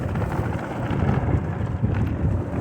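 Steady wind rushes and buffets against the microphone, a continuous low roar with gusty swells and no voices.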